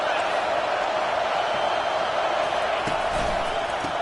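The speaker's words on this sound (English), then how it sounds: "This crowd trying to make life miserable for this offense." A college football stadium crowd during a Florida at Texas game gives a sustained, loud roar of many voices, steady throughout with faint scattered shouts and thumps.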